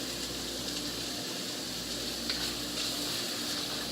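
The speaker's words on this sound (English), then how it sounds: "Let this saute for a couple minutes." Ingredients for keto egg roll in a bowl sauté in a pan with a steady, faint, continuous sizzle and a few light stirring clicks, with no talking.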